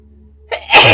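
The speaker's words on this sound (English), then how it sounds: "Sneezes of confirmation." One person sneezes close to the microphone, a short sharp inhale followed by a loud explosive burst, alone against near silence.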